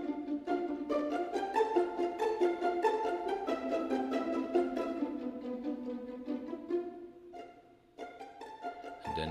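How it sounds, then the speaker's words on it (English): Pizzicato strings from Project SAM's free orchestral sample library, playing a theme from Hans Zimmer's Zoosters Breakout, with rapid plucked notes in a steady rhythm. A brief dip comes near the end, then the plucking resumes, with no talk. "It's the strings pizzicato."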